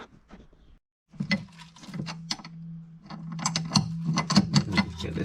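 A socket wrench ratchets steadily at close range, clicking and whirring as bolts are worked loose from a Sea-Doo jet pump, with faint metallic knocks mixed in.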